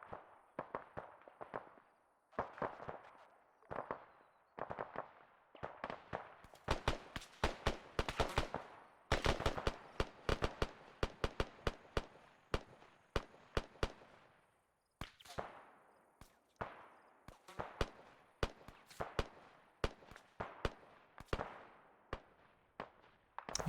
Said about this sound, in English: He's shooting everywhere he can at this point.